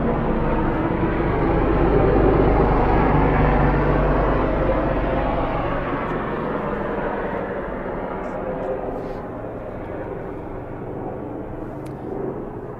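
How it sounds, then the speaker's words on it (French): A steady, broad engine roar from a helicopter passing overhead in the Pyrenees fills the whole stretch, swelling slightly early on and then slowly fading, with no talking. "Il y a un hélicoptère qui passe."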